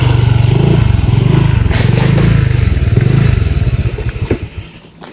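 A motorcycle engine drones steadily up close with clattering and scraping from a bumpy ride on a rough rural road in Pasong Bancod, Indang, Cavite, then the engine note eases off near the end.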